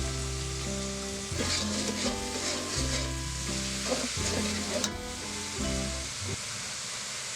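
Bay leaf, cardamom and cinnamon sizzling in hot oil for a basmati chicken biryani, a steady close frying crackle and hiss with stirring scrapes, no talk over it.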